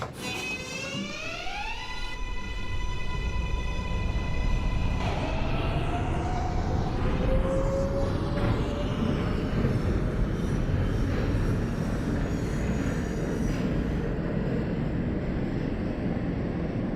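An R142A subway train on a Bronx-bound 4 express run in the OpenBve simulator accelerates with a rising electric motor whine in stepped tones over a steady rumble of wheels and rails, loud and continuous with no talking.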